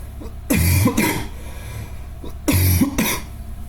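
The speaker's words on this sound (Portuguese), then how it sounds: "que tosse chato" Two close, harsh coughing fits, each a pair of quick coughs, separated by a short quiet pause.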